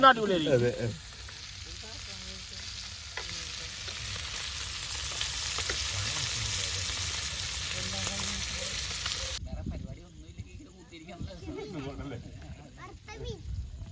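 Fish frying in a pan, a close, steady crackling sizzle that runs for most of the clip and then cuts off sharply, followed by voices talking over quieter background.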